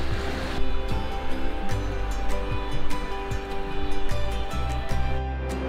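Waterfall rushing in Pokljuka Gorge, Slovenia, a broad steady roar of falling water heard close, with scattered clicks and knocks over the wash.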